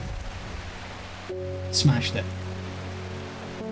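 Steady rain hisses in the background of the video game Strange Horticulture, a soft, even wash running throughout under a short spoken remark and a brief chime-like game sound.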